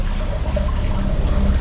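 A shower runs in a steady, close hiss of spraying water, unbroken and with no voices.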